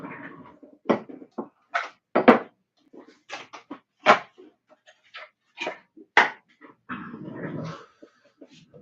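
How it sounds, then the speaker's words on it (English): A pet dog close by, giving a series of short growls, pants and whimpers in uneven bursts with brief pauses between, nobody talking over it. "This is my dog."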